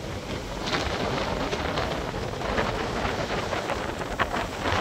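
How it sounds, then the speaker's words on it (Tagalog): Strong typhoon wind on a beach roars and buffets the microphone in a constant, loud rush, with gusty swells and a faint hiss of blowing sand. "malakas ang hangin, sumasaboy sa atin yung buhangin, masakit"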